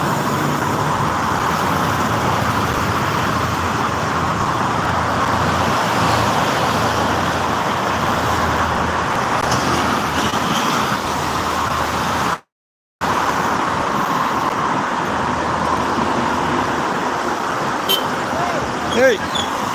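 Busy traffic on the Jakarta–Cikampek toll road under overcast skies, a steady broadband roar of cars and trucks rolling past continuously, with a voice speaking over it and a brief dropout partway through.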